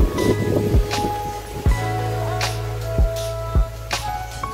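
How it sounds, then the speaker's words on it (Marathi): Wind gusts rush and buffet the microphone in repeated loud bursts over a steady low rumble and a faint tonal hum. "वारा पण सुटला आहे."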